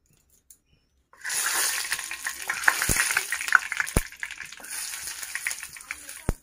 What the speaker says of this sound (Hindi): ये उबल रहा है